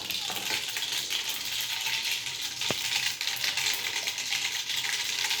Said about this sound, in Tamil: அது நல்லா பொரிய விடணும்.